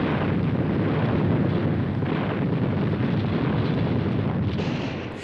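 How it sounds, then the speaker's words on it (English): An artillery barrage rolling forward ahead of advancing infantry, heard as a dense, continuous roaring rumble with heavy low booms blending together, fading slightly at the end. "Artillery fire, moving forward in stages, landed just ahead of the advancing infantry."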